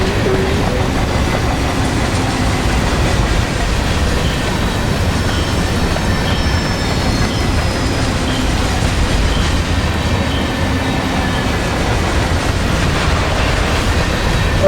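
Norfolk Southern freight train rolling past in the Run 8 Train Simulator V3 game, a steady loud rumble of wheels and rail noise with faint clicks and squeal over the full stretch, no talking.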